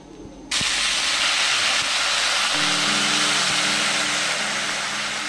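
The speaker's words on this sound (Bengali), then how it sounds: "এখন দিয়ে দেব উষ্ণ গরম জল।" Hot water poured into a pan of fried figs sets off a loud, steady sizzle and hiss that starts abruptly and holds without a break, with a faint low rumble beneath.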